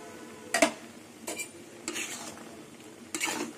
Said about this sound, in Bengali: দেখুন, এবার আমি ঢেকে দেব।